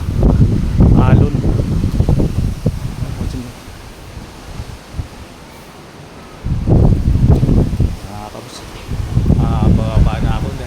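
Strong wind from Typhoon Uwan roars and buffets a microphone at night, coming in heavy rumbling gusts with quieter lulls between them and waves audible underneath, while someone talks over it.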